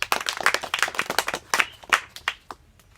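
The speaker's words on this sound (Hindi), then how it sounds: "आ जाओ, ताली बजाओ उनके लिए।" Children clapping at a village community outreach gathering, a quick run of uneven, sharp claps close by that thins out and fades toward the end.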